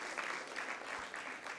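At a Nairobi secondary school debate competition, an audience claps for the winning Light Academy team, a fairly soft, even patter of many hands heard from a little distance and holding steady throughout.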